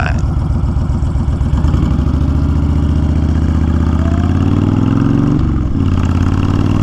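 A 2020 Honda Fury motorcycle with a Cobra fi2000 tuner pulling in first gear, a loud, close, throbbing V-twin rumble that rises in pitch as it accelerates, dips briefly at a shift, then steadies.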